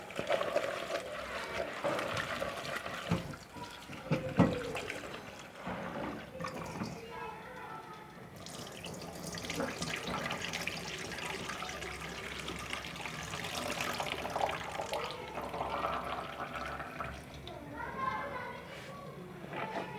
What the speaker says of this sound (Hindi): अब हम प्याज को धो लेते हैं।